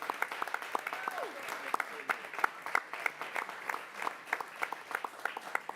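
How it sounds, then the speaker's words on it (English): Sparse, scattered clapping from a small audience at a school board of education meeting, honoring a student; individual claps stand out distinctly at a fairly faint, distant level, with no voices over them. "So please give her a round of applause."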